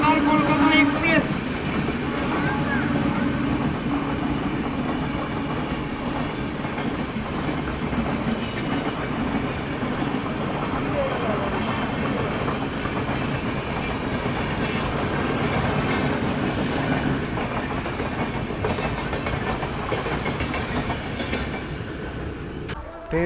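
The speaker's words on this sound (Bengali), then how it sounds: "ট্রেন এখন বর্তমানে তার প্রথম স্টপেজ নৈহাটি জংশনে এসে দাঁড়িয়েছে।" Teesta Torsa Express train pulling into Naihati Junction, a sustained rumble with rhythmic wheel clatter and occasional squeal as the carriages roll in, heard from on board with talk in the background.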